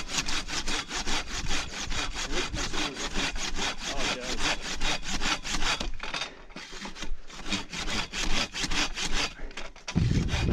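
A two-person crosscut saw cuts through wood with rapid, rhythmic back-and-forth rasping strokes, loud and close, continuing steadily throughout with a slight pause partway through.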